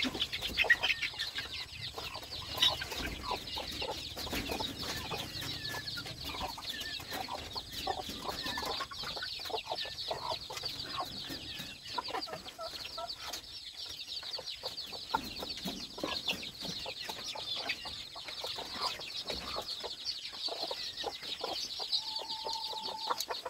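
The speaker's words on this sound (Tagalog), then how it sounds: "papakainin ko ng aking mga manok ngayon" Backyard chickens at feeding time cluck and chatter steadily close by, a soft, busy flock with brief louder calls scattered throughout.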